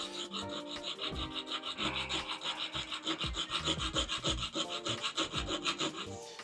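A router plane blade is pushed backwards and forwards on sharpening plates, giving a steady rhythmic rasping scrape that repeats in quick strokes, close and alone with no voices.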